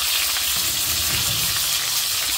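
Chicken pieces sizzle and fry steadily in a hot pot, a dense continuous crackle with soft stirring scrapes underneath, close and fairly loud with no talking.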